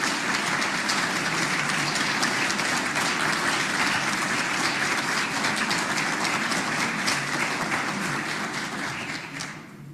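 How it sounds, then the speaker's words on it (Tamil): A large audience at a talk on the Kural and the Gita claps hands together in sustained, dense applause that holds steady for nearly ten seconds before starting to taper off at the end. "தெரிவிப்போம், கைகளை தட்டி."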